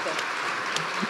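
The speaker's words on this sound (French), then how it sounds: "On vous applaudit une nouvelle fois." Audience applause following a scientific talk on detecting cancer in the blood, a soft, even patter of clapping heard at some distance, fairly faint throughout.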